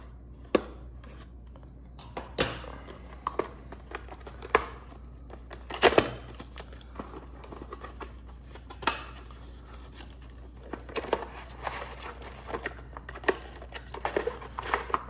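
Scissors or a blade cut open plastic packaging around a Satechi M1 Bluetooth mouse, with scattered snips, crinkles and taps up close, irregular and fairly quiet with short pauses between cuts.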